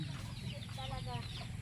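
Chickens cluck steadily close by on a rural farm, a busy overlapping chatter of hens over a low rumbling background.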